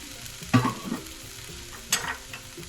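Tomatoes hit a hot pan of vegetables and garlic for keshi yena, with a loud sizzling burst, a short stretch of quieter frying, then a second hiss of stirring.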